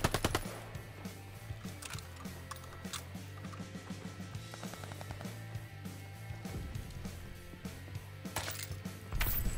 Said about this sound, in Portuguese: nesse jogo você escuta os tiros dos outros